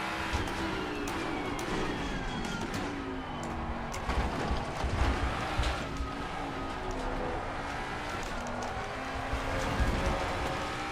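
A Mustang race car engine in the video game Assetto Corsa Competizione drones steadily at high revs, a continuous buzzing roar with shifting pitch and no pauses.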